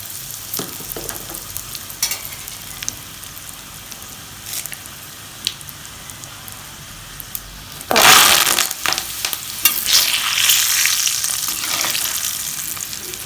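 Scattered crackles and pops of cumin, asafoetida and other spices in hot oil for mango pickle, then a loud burst of sizzling that settles into steady frying.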